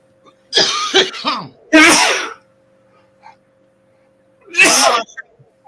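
Two sharp, explosive sneezes burst out close by about three seconds apart, with a brief breathy sound before the first.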